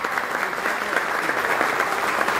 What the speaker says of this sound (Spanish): el ingeniero Amado Ten, para quien pedimos un fuerte aplauso